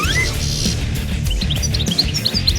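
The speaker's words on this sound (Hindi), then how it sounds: "क्या ये चिड़िया है?" Bright bird chirps and tweets repeat quickly and loudly in a cartoon setting, scattered high calls over a dense, busy musical background.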